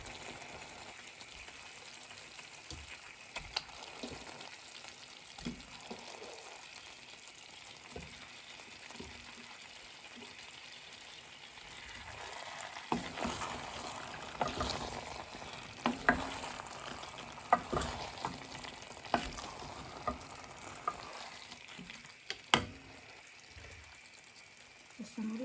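Boal fish frying in oil with a soft continuous sizzle, quiet at first and then busier with scattered clinks and scrapes of a utensil toward the end, close by, without voices.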